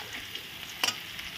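Sesame and chili paste hit hot oil with already-fried potatoes in a pan, making a steady close-up sizzle with a brief stirring scrape partway through.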